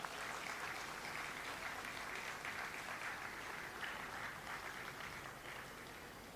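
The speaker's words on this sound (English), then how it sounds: "Perhaps we can give them a round of applause." Audience applause fills a cathedral at an official Christmas opening event, a steady broad wash of many hands clapping that holds for several seconds before easing slightly at the end.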